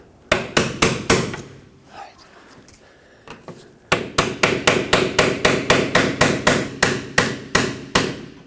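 A hammer strikes a chisel to drive out the shock absorber stud on a 2006-2010 Hyundai Sonata. Loud, sharp metallic blows come in a quick steady rhythm: a few at first, a short pause, then a long fast run.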